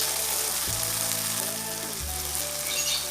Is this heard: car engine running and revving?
no